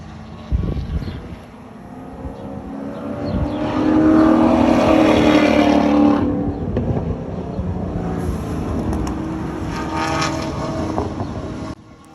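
A race car on a circuit during a track weekend, not yet at full throttle, approaches with a rising engine drone, peaks loudly as it passes, then trails off. A second, fainter swell follows.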